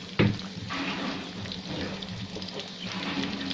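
Chopped onions fry in hot oil in a pan for a dhaba-style fish curry, a steady close sizzle with a brief clatter at the start as they are stirred.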